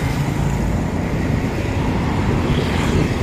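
Steady road traffic on a wide, moderately busy Jakarta street with bike and pedestrian lanes, a continuous low rumble of cars and heavier vehicles passing at close to middle distance, with no gaps and no talk.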